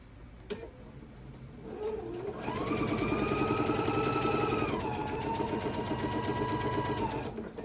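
A sewing machine starts up and runs at a steady fast stitch along a scant quarter-inch seam on quilt half-square triangles, a close mechanical whirring and ticking after a brief click.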